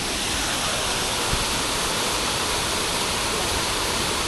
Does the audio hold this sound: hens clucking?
no